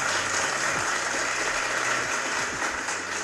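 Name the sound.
applause sound effect played on stream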